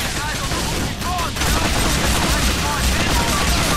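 Sustained automatic AK Kalashnikov rifle fire in the video game GTA IV, a loud dense burst of rapid shots with a voice talking over it.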